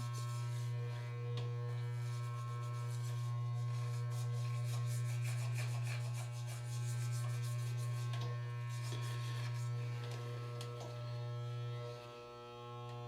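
Electric hair clippers fitted with a number 2 guard trim hair around the back of the head, giving a constant loud buzzing hum with soft rubbing and scratching as the blades move through the hair.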